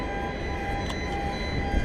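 Trains rumble steadily at the Main Freight rail yard in Auckland, a continuous broad mechanical roar with a faint high whine, heard from a distance without talk.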